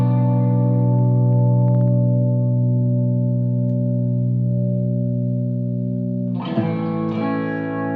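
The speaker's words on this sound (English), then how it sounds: "A short delay would echo it." A sustained electric guitar note rings through a short delay effect and holds steady for several seconds, then a fresh strummed attack enters near the end, its repeats smearing together.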